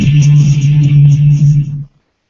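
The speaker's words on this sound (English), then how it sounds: "that'll now fade out rather nicely after I'm done speaking and sound something like this instead of just ending abruptly" Music track fading out as a closing effect, a steady low tone with faint upper shimmer tapering smoothly to silence after under two seconds.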